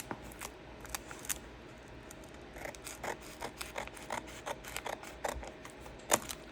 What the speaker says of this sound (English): try not to cut more than I need